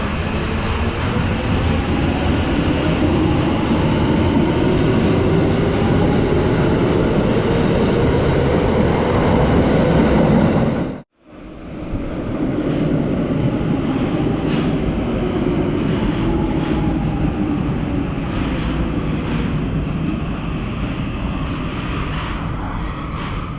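A Tokyo subway train in motion, a loud continuous rumble and roar of wheels and carriages heard from on board, with a sudden brief dropout midway before the steady running noise resumes.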